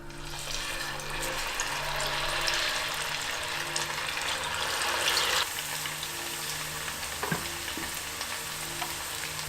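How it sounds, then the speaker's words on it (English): Plantain slices frying in hot sunflower oil give a steady, dense sizzle and crackle up close, with occasional stirring clinks and no talking. "Okay, so we're ready to fry our plantains."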